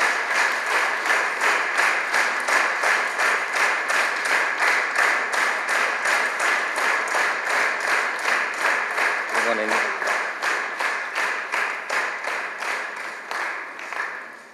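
A concert audience at an Advent event in Kecel claps for a choir in strong rhythmic unison, steady beats repeating for many seconds, with a brief voice midway, then the clapping thins and fades at the end.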